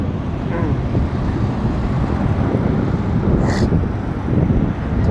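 Strong wind buffeting the microphone while cycling at Marina Bay in Abu Dhabi, a loud continuous low rumble and roar throughout, with faint distant traffic beneath it.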